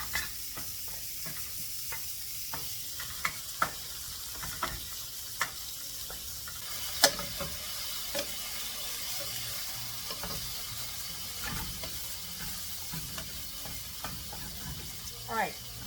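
Green beans and garlic frying in a pan give a quiet, steady sizzle, with scattered clicks and scrapes of stirring and a louder knock midway, and faint talk in the background.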